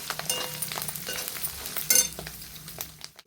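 Green chillies, about a dozen and split in half, fry in oil for a savory puffed-rice snack mix. A moderate sizzle runs steadily with occasional stirring clinks and scrapes throughout.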